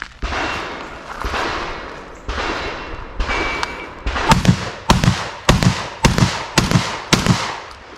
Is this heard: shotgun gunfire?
yes